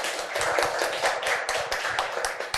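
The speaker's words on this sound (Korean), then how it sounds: "여러분들 박수 부탁드리겠습니다." Applause from a seated audience at an academic conference on Korean gold crowns, a steady dense patter of clapping lasting the whole stretch, fairly close and even, with no talk over it.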